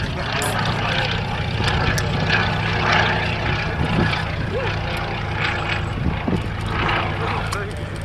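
A Fairey Swordfish biplane of the Navy Wing Heritage Flight drones past at an airshow, its steady propeller engine hum lingering at moderate distance beneath continuous commentary.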